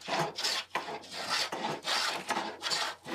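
Steady, close rasping strokes as a wood rasp smooths oak headboard stock for a bed, each long abrasive pass separated by brief pauses in a repeating rhythm, no talk.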